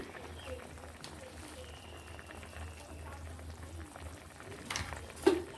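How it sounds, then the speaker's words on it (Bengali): Uncovered potato curry bubbles softly in a pot under a voice, with a few stirring scrapes and a clink near the end. "বেশ ফুটতে শুরু করেছে আমি ঢাকা খুলেও নিয়েছি এবার এইভাবে একটুখানি নেড়ে নিচ্ছি"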